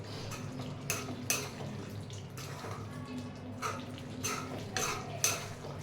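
A ladle stirs chicken curry in a pot with repeated wet scrapes and knocks against the metal, soft and close over a steady low background hum, with occasional sharper clinks.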